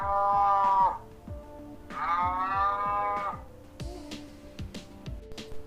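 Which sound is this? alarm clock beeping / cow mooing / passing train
cow mooing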